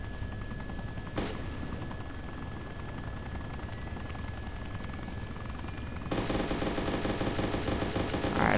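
Gunfire in ArmA 2, a rapid machine-gun rattle that stays steady over a helicopter's rotor drone, with one sharp shot early on and the firing growing louder near the end.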